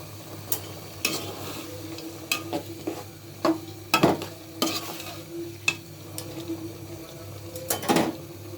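Cumin and chopped tomato sizzling in a pot on the stove, a steady frying hiss broken by repeated clanks and scrapes of a spoon stirring against the metal.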